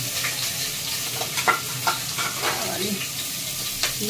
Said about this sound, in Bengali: এখন এই যে রান্না বসিয়ে দিব, নুডলসটা সিদ্ধ টিদ্ধ হয়ে গেছে, কারণ পেঁয়াজ মরিচ রান্না করতে বসে দিচ্ছি।